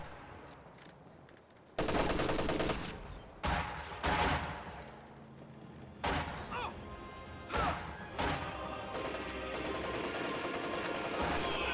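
MG-34 heavy machine guns fire in bursts during a World War II strategy game battle, loud and dense, with rapid automatic fire, crashes and thuds layered over ongoing combat noise.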